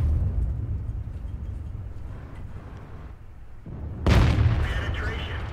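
A tank's main gun fires in the World of Tanks video game, one sharp loud blast near the end that rises over steady low engine rumble and ambient battle noise.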